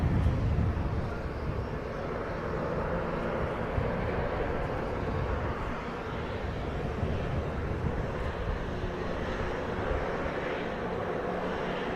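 Aerobatic display jets fly a three-ship opposition break at an air show, a continuous, loud, rushing engine roar mixed with wind buffeting on the microphone, heaviest at the start and holding steady throughout.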